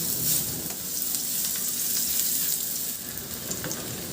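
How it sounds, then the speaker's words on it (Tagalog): Garlic sautéing in hot oil for chicken adobo with coconut milk, a steady close crackling sizzle with small pops and no voices. "Magpainit na rin ako ng mantika. At igisa ko na yung bawang."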